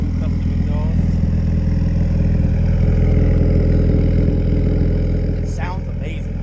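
Steady, rumbling idle of a turbocharged Honda B20 engine in a car, loud and close with a throbbing low pulse throughout, while a person talks briefly over it.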